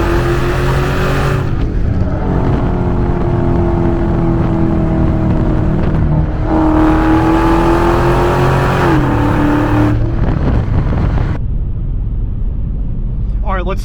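Dodge Scat Pack car accelerating hard, loud engine revving in rising sweeps that climb, drop and climb again through gear changes, heard close up throughout.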